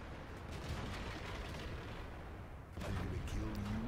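A T-62A tank gun fires in a tank battle game with a single heavy, booming shot near the end. Low rumbling engine and battlefield noise run steadily before it.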